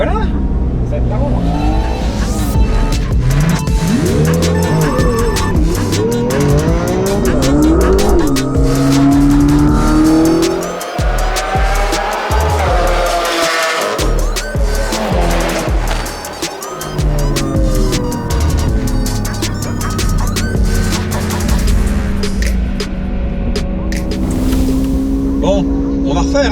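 A Suzuki SV motorcycle does a launch-control start and accelerates hard, its engine revving up through rising, shifting tones, loud and close, while someone talks over much of it.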